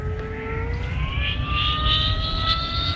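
E-flite V1200 RC plane races past at high speed with a rising, whining electric motor tone that echoes, steady and fairly loud throughout.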